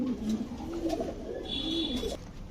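Imported fancy pigeons coo at close range, a low throaty rolling call heard twice over about two seconds, with a faint higher chirp in the background.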